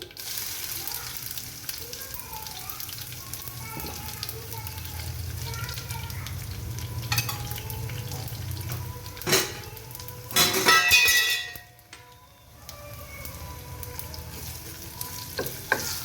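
Crushed garlic sizzles and fries in a pan while greens are being cooked, a steady crackle with stirring clatter and a louder burst near the end, with faint talk in the background.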